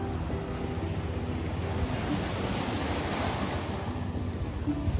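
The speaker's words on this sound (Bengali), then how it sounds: "সমুদ্র একদম রাস্তায় এসে ধাক্কা খাচ্ছে দেখুন" Sea waves surging up against a coastal road at Tajpur, a continuous loud roar of surf and wind-driven water without pause, with wind rumble buffeting the microphone throughout.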